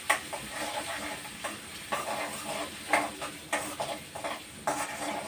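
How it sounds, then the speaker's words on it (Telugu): Raw prawns with grated ginger fry in a pan, a quiet sizzle and hiss broken by repeated scraping stirs and light clinks of a utensil against the pan, without talk. "బాగా వేయించుకోండి"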